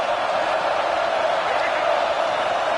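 A steady, dense roar from a stadium crowd cheering in a college football video game, Alabama vs Florida, sustained and loud throughout the short stretch.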